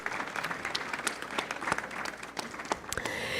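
An audience claps steadily at a neurology award lecture in Brazil, welcoming a researcher onto the stage, with dense, even clapping at moderate volume and a few louder nearby claps over the full span.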